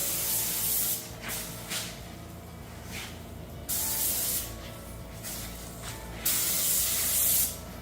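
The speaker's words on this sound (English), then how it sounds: "Spraying on the silver stripe." Silver spray paint hissing from an aerosol can onto the nose of a 1968 Triumph TR250 in repeated bursts of varying length, fairly close and loud, with no talking.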